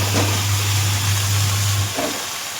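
Washed vegetables tipped into a wok and frying, with a steady broadband sizzle, a strong low hum under it, and a brief clatter near the end as the sizzle fades.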